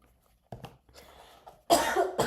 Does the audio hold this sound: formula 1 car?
no